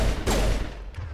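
A single sharp sniper rifle crack in Mass Effect bursts out near the start, followed by a brief rumbling tail and a fainter second report.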